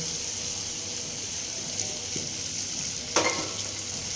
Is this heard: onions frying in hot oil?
yes